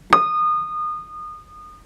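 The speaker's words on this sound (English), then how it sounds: "The left string is beating." A single piano string, struck once, rings with a sustained tone that slowly pulses in loudness as it beats, its left unison string detuned by a loose tuning pin, fading gradually.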